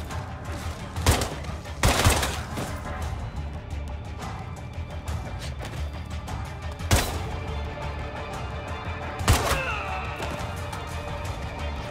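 Gunshots in State of Decay 2, four sharp, loud reports spread unevenly over a dozen seconds, some in quick doubles, above a constant low game background with no talking.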